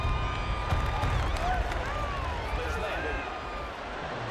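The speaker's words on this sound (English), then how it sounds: "This crowd turning up the decibel level" Stadium crowd noise in Madden 24, a steady roar of cheering fans building under a commentator's voice, which fades near the end.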